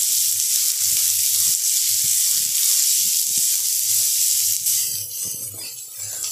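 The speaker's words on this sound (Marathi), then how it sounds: "आणि हे चांगलं भाजून घेऊया" Finely chopped vegetables for veg momo filling fry in a hot pan with a loud, steady sizzle and hiss, while soft low knocks from stirring recur throughout.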